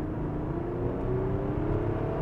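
A Toyota Avalon's 2GR-FE V6 with a 6-speed transmission pulls under acceleration, giving a steady, continuous engine drone with a faintly rising tone, heard from inside the car with no talking.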